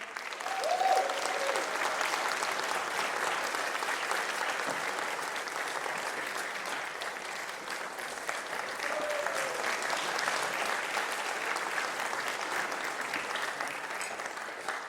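A live talk-show audience in Amsterdam applauds steadily and evenly for the two stand-up comedian hosts, a dense sustained wash of clapping with no break throughout.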